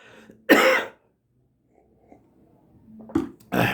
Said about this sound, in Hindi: थोड़ी सी खांसी है।